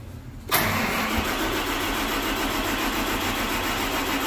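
A John Deere 8RX370 tractor engine cranking, quiet for a moment and then bursting into a loud, steady, broadband roar of the starter and engine that holds evenly, close by with no talking.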